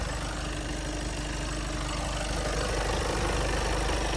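A 2018 Volkswagen Passat B8 with a 2.0 TDI diesel engine idles steadily, a continuous even rumble close by with no revving or talk.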